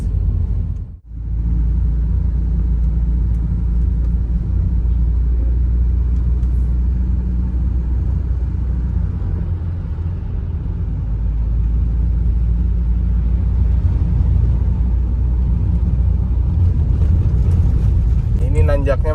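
An old Volvo 960GL drives uphill, its engine a steady low rumble held at modest revs throughout, with a brief drop early on and a voice talking over the drone.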